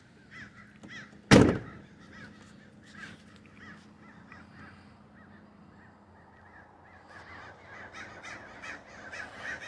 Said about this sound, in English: All the crows flying around.